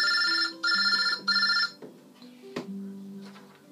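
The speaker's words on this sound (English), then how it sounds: "sorry about the phone" A telephone rings indoors with three loud electronic trilling bursts in quick succession, followed by softer clicks and a lingering tone after the ringing stops.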